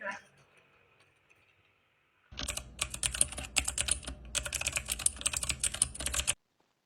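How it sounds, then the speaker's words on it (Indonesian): An old typewriter is used to type the text of Indonesia's independence proclamation, giving a rapid, continuous burst of crisp keystroke clatter that lasts about four seconds and then stops abruptly, after a brief faint voice and quiet. "Tolong ketikkan naskah ini, Sayuti."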